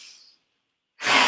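A breath rasps in the throat during a yoga breathing exercise, a brief airy exhale that dies into silence and then a louder, harsher breath near the end.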